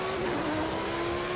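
Lamborghini Sesto Elemento FE in the racing game Forza Horizon 5 accelerating, a short, steady engine drone with a rising tone, heard alone with no voices.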